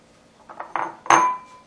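A spatula scraping mango vegetable salad from a bowl, a few quick clinks and scrapes building to one louder ringing knock, close and alone.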